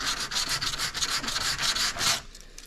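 Steady back-and-forth rubbing of sandpaper over a painted surface on a Fox-body Ford Mustang, close up, in a continuous rhythmic scrape that stops near the end.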